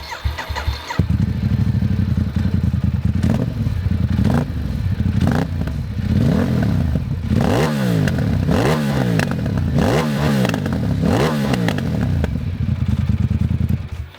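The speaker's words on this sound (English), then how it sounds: "And that's the sound of the Ducati XDiavel S with a thermic noni exhaust." A 2017 Ducati XDiavel S engine with a Termignoni exhaust starts and idles with a deep, uneven rumble, then revs sharply several times in a row, barking and popping through the brash exhaust.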